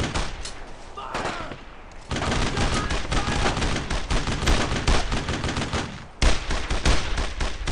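Dense, sustained gunfire from the World War II video game Brothers in Arms, with rapid machine-gun bursts and rifle shots roaring loud and close, briefly easing then resuming, with shouted voices mixed in.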